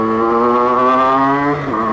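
A 50cc moped engine runs close and loud at full throttle with a strained, buzzing whine, holding high revs before a brief dip like a gear change.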